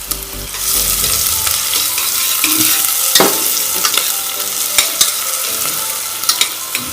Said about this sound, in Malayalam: തേങ്ങാക്കൊത്തൊന്ന് മൂത്ത് വരുമ്പോൾ നമുക്ക് കുറച്ച് ചെറിയുള്ളി അരിഞ്ഞത് ചേർത്ത് കൊടുക്കാം എന്നിട്ട് രണ്ടും കൂടി ഒന്ന് നന്നായിട്ട് മൂപ്പിച്ചെടുക്കാം